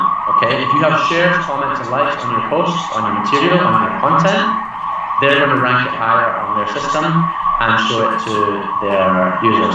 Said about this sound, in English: Sorry about the siren, something must be going on outside.